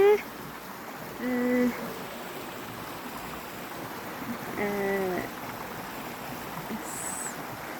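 A steady rush of stream water runs through a damp rural area where the ground stays wet year-round. The even, moderate flow continues beneath a couple of brief bursts of nearby talk.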